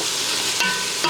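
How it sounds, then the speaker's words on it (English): Soft vegetables simmering in a pan for low-carb homemade spaghetti sauce, a steady close bubbling and sizzle with a couple of brief stirring scrapes. "I'm just going to let these simmer."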